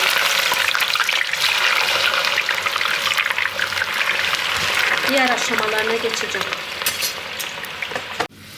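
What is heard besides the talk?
potatoes frying in oil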